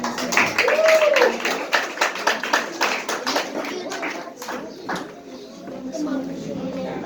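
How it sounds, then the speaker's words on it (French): Scattered hand claps from a small group, a brief patter that thins out with voices murmuring underneath and a short tonal chirp early on. "On applaudit Samuel, s'il vous plaît."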